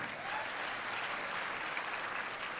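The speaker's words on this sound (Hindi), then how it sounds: "ठीक है, जोरदार तालियां।" A seated audience at a college induction programme breaks into applause, a dense, continuous wash of many hands clapping at once, fairly loud and steady throughout.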